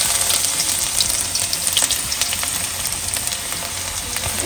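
Garlic fries loudly in hot oil with cumin seeds, giving a dense, steady sizzle with spattering crackles throughout. There is no talking.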